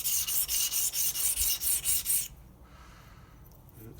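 Obsidian arrowhead edge rubbed back and forth on a 400 grit diamond plate, a close, rhythmic series of about ten quick rasping strokes that stop abruptly, leaving faint room noise.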